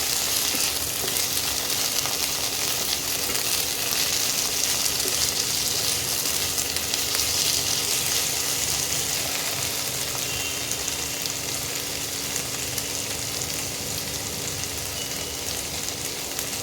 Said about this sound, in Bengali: এবার এটা একটু ভাজা ভাজা করবো।